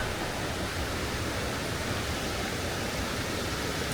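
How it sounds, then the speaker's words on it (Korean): Steady, dense roar of rushing water, broadband and continuous like a nearby waterfall, with no voices; Laughing Falls in Yoho National Park, Canadian Rockies, along a forest trail. "물소리가 웅장하게 들립니다."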